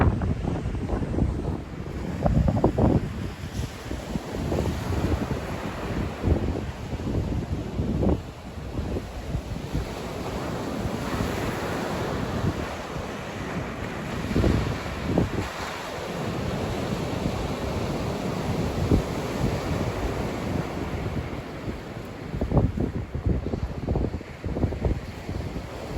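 Wind buffets the microphone on a beach while waves wash and surge steadily in the background, a continuous broadband roar with gusting swells and no voices, lasting throughout.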